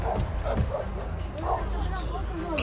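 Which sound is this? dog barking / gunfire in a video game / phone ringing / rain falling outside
dog barking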